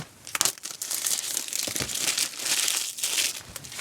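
Packaging of a DJI Mic Mini being opened, with dense, busy crinkling and crushing of plastic and cardboard throughout, close-up and moderately loud, with no talking.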